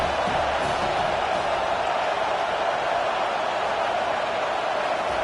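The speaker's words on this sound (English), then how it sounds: "Decibels rising as the crowd gets behind this defense on third down." A packed football stadium crowd roars behind the home defense on a third down, a dense, steady wall of cheering and noise that holds at full volume throughout.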